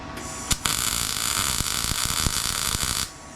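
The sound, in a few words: welder welding a car frame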